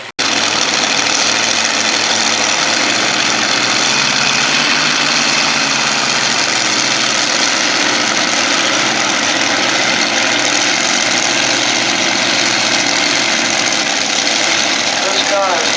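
A modified pulling tractor's engine idles at a county fair tractor pull, a loud, steady, rough mechanical roar with constant vibration filling the whole span, crowd and announcer noise blended beneath.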